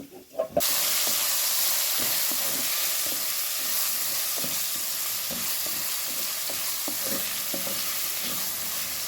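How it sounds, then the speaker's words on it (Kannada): Washed mushrooms hit a pan of cooked onion and start frying, a steady loud sizzle with hissing steam and occasional stirring scrapes throughout, no voices. "ತೊಳೆದಿಟ್ಕೊಂಡಂಥ ಮಶ್ರೂಮನ್ನು ಸೇರಿಸ್ಕೊಳ್ತೇನೆ"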